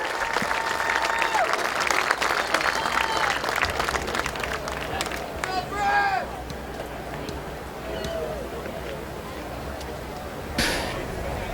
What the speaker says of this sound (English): How about a big round of applause for Marcus Malkett